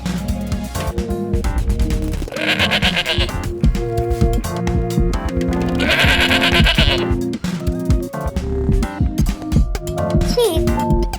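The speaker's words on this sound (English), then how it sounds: "Goat." A goat bleats in several loud, wavering cries set against a busy musical backing, with a voice speaking briefly among them.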